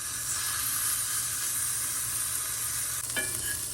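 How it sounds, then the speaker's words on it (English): A piece of fresh pork breakfast sausage frying in a pan, giving a steady, close hiss and sizzle throughout with one small clink near the end. "I'm gonna fry it in my pan and taste it"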